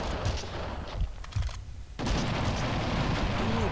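Dense, continuous gunfire from a Max Payne 2 shootout, loud bursts of shots and booms that briefly thin out midway before resuming at full intensity.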